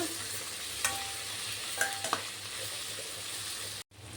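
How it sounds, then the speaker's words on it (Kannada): Pepper chicken masala frying in a pan for a dry spicy chicken dish, a steady close sizzle with a few light stirring clinks, then a brief cut to silence near the end. "ಈ ಥರ ಫ್ರೈ ಆಗಬೇಕು ಇನ್ನೊಂದೆರಡು ನಿಮಿಷ ಕೂಡ ಫ್ರೈ ಆಗಬೇಕು"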